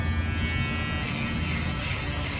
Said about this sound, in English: These electric shavers.